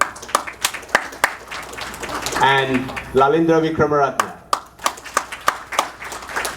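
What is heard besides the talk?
audience applause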